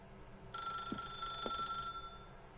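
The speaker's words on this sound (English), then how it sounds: "As Stanley picked up the phone" A telephone rings in The Stanley Parable video game, a steady electronic bell tone with bright overtones that starts abruptly and holds for over a second before cutting off, with faint low thumps beneath and no voices.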